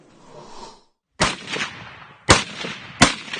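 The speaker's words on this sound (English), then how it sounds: "The March the 7th exercises included tactical drills and live firing." Live gunfire at a military training exercise, with three loud, sharp shots at irregular intervals, each followed by a brief echoing tail, after a softer rumbling lead-in and a moment of silence.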